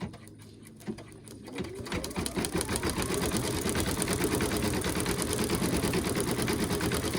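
An embroidery machine stitches a flower design in lilac thread, starting after a quiet moment and then running in a fast, steady, loud mechanical chatter.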